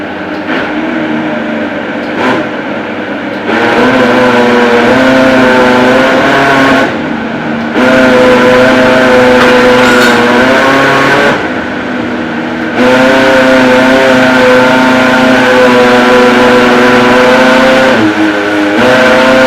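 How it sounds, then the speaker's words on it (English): An electric blender whirs loudly, blending soaked sorghum and water into a smooth paste, running in several bursts separated by short pauses, its motor pitch steady and close. "Then take it down to the blender to smooth"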